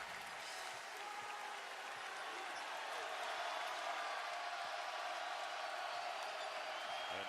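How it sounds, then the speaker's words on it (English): Crowd at a college basketball game between Iowa State and Houston, applauding and cheering steadily throughout, a broad continuous roar with scattered shouts and faint talk mixed in. "And the crowd back to life."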